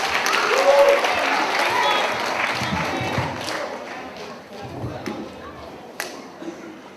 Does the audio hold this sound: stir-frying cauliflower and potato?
no